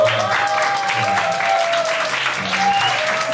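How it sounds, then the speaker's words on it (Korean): Applause from a church audience during an overseas mission worship concert, a steady dense clapping wash over the whole stretch, with a voice or sustained tone faintly running underneath. "우리 어게인 에덴도 우리 친구들한테 박수 한번 칠까요?"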